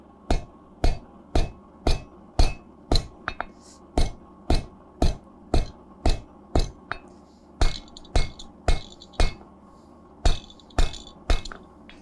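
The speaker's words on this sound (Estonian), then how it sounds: "Nüüd hakkan teravikku sepistama." Hammer forging a spike for a candleholder on an anvil, loud ringing metallic blows in a steady rhythm of roughly two per second, close up, with brief pauses between runs of strikes.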